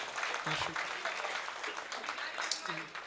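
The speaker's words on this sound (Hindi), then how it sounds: "तो एक बार भरपूर तालियां हो जाए मोहतरम अमन मिश्रा के लिए" An audience at an Urdu mushaira in Mumbai applauds poet Aman Mishra, dense steady clapping throughout, with voices speaking over it at moments.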